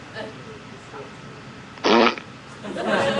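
A loud, short fart bursts out alone, followed moments later by a rougher, longer rasp as talk resumes, in an ordinary indoor setting.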